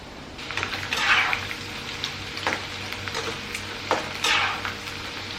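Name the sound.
sweet corn frying in a pan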